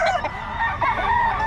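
An eight-month-old stag, a young rooster, crows in a short, rough, strained call, loud and close.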